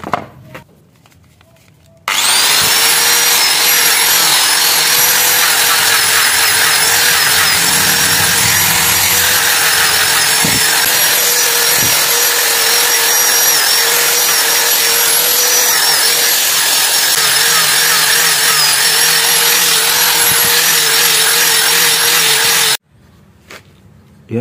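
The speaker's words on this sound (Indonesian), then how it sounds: "Langsung aja kita gerinda." An angle grinder shapes a piece of scrap wood with a loud, steady, high-pitched whine and gritty abrasion that runs for about twenty seconds, starting and stopping abruptly.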